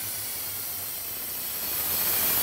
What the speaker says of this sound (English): This is a little can here, and this is a keyboard duster.